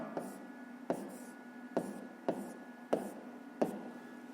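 Numbers being written by hand during a fifth-grade math exercise, heard as a series of short, evenly spaced pen or chalk strokes about every three-quarters of a second, with faint voice in the background.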